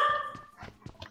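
A dog nearby gives a few short yips and whimpering barks in quick succession, fairly soft and unaccompanied by speech.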